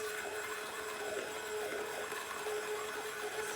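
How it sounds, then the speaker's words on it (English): An immersion blender whisks hollandaise sauce base in a kitchen, giving a steady, fairly quiet motor whine that holds evenly throughout with no talking. "Just a little bit of whisking with my immersion blender."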